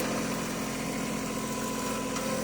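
A Kioti CK2620 tractor engine idles on a mountain property, a steady, close, droning hum with constant vibration and no voices.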